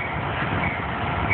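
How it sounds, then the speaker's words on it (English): A steady, close rumble of a train rolling past at Albany station, continuous and moderately loud. "Here comes the train."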